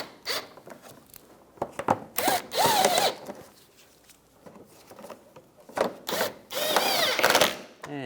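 Short whirring bursts of a power tool driving fasteners on a 2004-2009 Toyota Prius headlight assembly, several brief runs with quiet gaps and some handling noise, close and fairly quiet.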